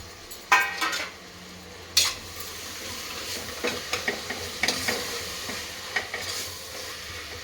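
Four chopped tomatoes fry and sizzle in a pan for plain biryani while a utensil stirs them, with scraping strokes and clinks over a steady close sizzle.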